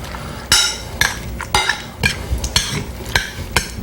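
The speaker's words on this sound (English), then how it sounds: "Mix it all up." Pasta sauce laced with vodka being stirred in a pot, a utensil scraping and knocking against the metal in a steady rhythm of strokes about every half second, close and fairly loud with a soft sizzle underneath.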